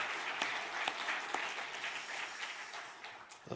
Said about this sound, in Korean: 우리 서로 좀 박수로 격려하겠습니다.